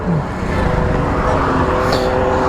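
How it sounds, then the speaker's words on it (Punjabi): A truck passes on a single-lane road, its engine and tyre rumble loud and close, holding a steady roar throughout. "ਟਰੱਕ ਲੰਘਾਣਾ ਪਊਗਾ ਯਾਰ ਕਿਉਂਕਿ ਸਿੰਗਲ ਰੋਡ ਚੱਲ ਰਹੀ ਹੈ"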